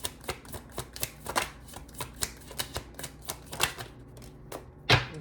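Tarot cards being shuffled in a dense series of crisp riffling snaps and flutters, steady and close, ending in one sharper louder slap of the deck.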